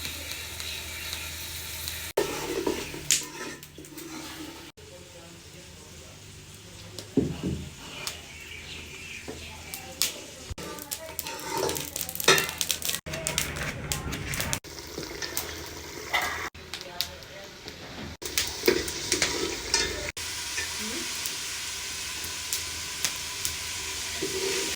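Ground onion paste sizzles and fries in a pan while being stirred, with intermittent scraping and spattering hiss at moderate loudness, broken by brief gaps and faint background sounds.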